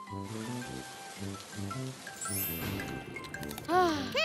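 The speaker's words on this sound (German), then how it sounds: "Oh nein, ein plötzlicher Regenschauer ist gekommen." Sudden rain shower in a children's animated cartoon, a soft patter of drops under a bouncy music track, ending with bright tinkling chimes.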